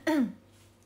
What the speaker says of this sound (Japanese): 咳しちゃってごめんね